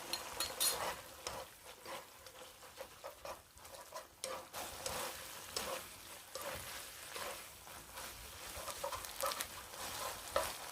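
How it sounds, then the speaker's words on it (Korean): Bracken namul with perilla powder simmers in a pan while being stirred, giving faint irregular scrapes and soft bubbling sizzle in quick uneven bursts. "이렇게 들깨가루 2스푼을 넣고 자글자글 끓으면 볶듯이 이렇게 잘 뒤집어 주면서 이렇게 마무리하면 되거든요"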